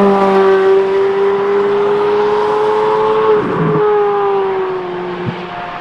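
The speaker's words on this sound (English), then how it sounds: "This is what that car sounds like." A Chevrolet Corvette C8 Z06 engine sings at high revs, a loud, near, tonal wail with shifting pitch as it accelerates, dipping briefly mid-run and then settling, with no talk over it.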